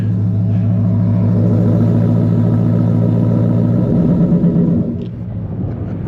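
Deep, steady idle rumble from a truck fitted with a Coyote V8 swap, loud and close, holding an even throb before easing off slightly near the end, with no talking.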